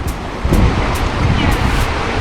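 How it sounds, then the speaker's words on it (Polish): Rushing water roars continuously below the footbridges of Sapadere Canyon in Türkiye, a steady broadband wash with wind buffeting the microphone and occasional brief hissing bursts. "Fajnie w dole szumi woda"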